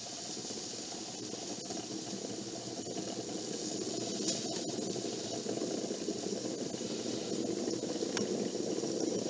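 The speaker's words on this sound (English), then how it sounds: "Bialetti Mocha Espresso. This is a copy. We've got espresso happening." A Bialetti moka pot brews espresso on the stove with its lid down, giving off a steady, fairly close hiss and gurgling bubble that swells slightly louder toward the end, with no voices over it.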